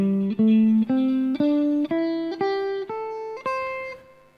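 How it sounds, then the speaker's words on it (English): Electric guitar plays up a minor pentatonic scale, eight or so clean single notes picked one after another in an even rising sequence, each sustaining until the next, close and alone. "just playing up a minor pentatonic scale"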